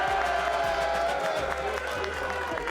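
A live audience at a show roars with cheers and whoops, a steady, loud wall of crowd voices with a few claps mixed in, sustained throughout.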